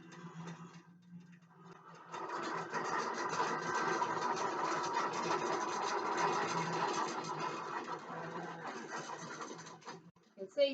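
A computerized Qbot quilting machine stitches an overlay, giving a faint, steady mechanical whirring with rapid ticking that starts after a moment, runs evenly, then winds down.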